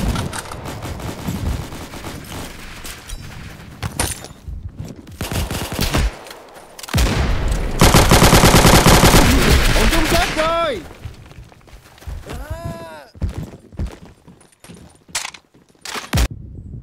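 M2 carbine gunfire in a first-person shooter, loud rapid bursts and sustained automatic fire mixed with other gunshots and explosions, with in-game voice callouts over the battle.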